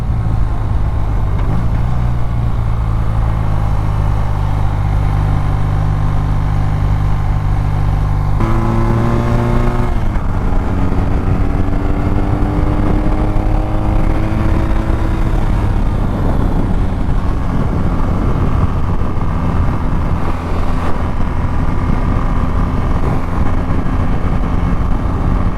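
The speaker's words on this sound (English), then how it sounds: "this engine braking on this thing is gnarly" A 2021 BMW R nineT Pure motorcycle engine roars loud and close with repeated revs up and down through gear changes, followed by a long stretch of deceleration under engine braking, the exhaust burbling steadily as the bike slows.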